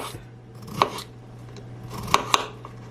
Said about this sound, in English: So I already shaved my potatoes. And I'm just going to slice them like this.